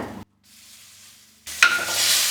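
A tempering of mustard seeds, dried red chillies and curry leaves in hot oil with turmeric, for a South Indian buttermilk curry, cut out briefly and then a steady bright sizzle, close and loud with no talking.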